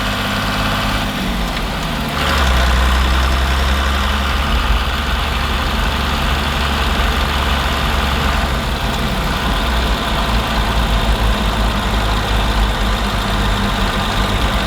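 Warmed-up Cummins diesel swapped into a Land Cruiser idling close by, a steady low rumble throughout, with a brief shift in tone near the start before settling into an even, unbroken idle.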